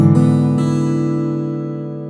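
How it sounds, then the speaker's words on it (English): Acoustic guitar arpeggio rolling across all six strings in a fingerpicked lesson piece, a couple of quick plucked onsets at the start and then the chord ringing out and slowly fading, solo and close. "I finish off this sequence with an arpeggio"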